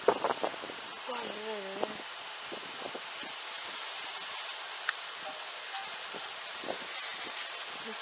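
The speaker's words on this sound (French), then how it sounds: "Donc des averses, hein, du soleil, encore des averses, très fortes rafales de vent." A rain shower driven by gusting wind during storm Hans in Tour-en-Sologne, France, heard as a constant broadband hiss of falling rain, with a brief voice speaking near the start.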